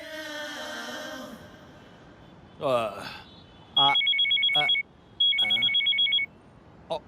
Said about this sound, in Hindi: अब किसने फोन कर दिया?